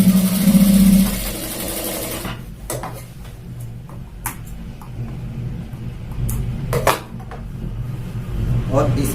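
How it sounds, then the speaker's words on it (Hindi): Sewing machine briefly whirring near the start while stitching a trouser fly, followed by quieter handling clicks and fabric rustles; a person talks throughout. "यहाँ पर इस तरह से सिलाई लगा देंगे"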